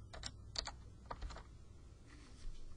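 A few quick keystrokes on a computer keyboard, soft close clicks in two short bursts with a faint tap near the end, otherwise quiet.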